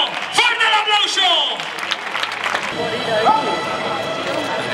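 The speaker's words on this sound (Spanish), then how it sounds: "¡Fuerte el aplauso!" At a bullfighting recortes contest in Aldeadávila, an outdoor crowd applauds a performer. Loud shouting voices ring out over the clapping and general crowd noise.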